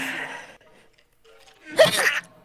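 A single sneeze bursts out once, loud and close, after a few seconds of quieter voice in a casual home setting.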